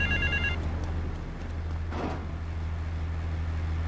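A telephone rings in Grand Theft Auto III, a steady electronic ringing in short repeated bursts over the first half-second, set against continuous low engine and traffic rumble from the game.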